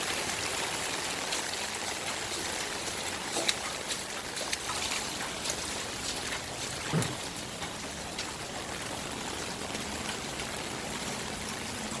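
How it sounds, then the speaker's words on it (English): Rainwater from roof gutters pours and flows in a flooded street, a steady rushing, trickling wash that continues alone with a few faint knocks. "So it's taking all the rain from that roof and everything, and it's pouring it right here."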